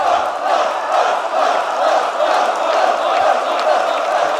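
Loud, dense crowd noise from a live esports grand final of Rainbow Six at the BLAST R6 Major in Atlanta, with steady cheering and roaring that holds for several seconds without a break.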